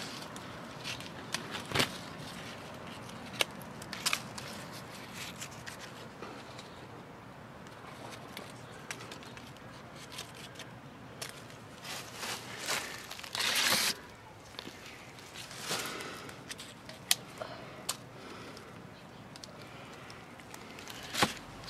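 Persimmon tree branches being pruned and fruit picked, with scattered sharp snaps and crackles of leaves and wood alongside rustling and footsteps, mostly faint with a few louder cracks.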